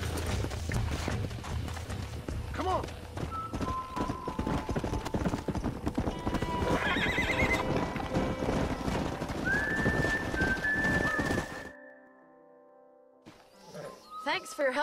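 Horses' hooves clip-clop steadily in the Red Dead Redemption video game, with a neigh or whinny partway through and voices talking over the hoofbeats before a brief quiet gap.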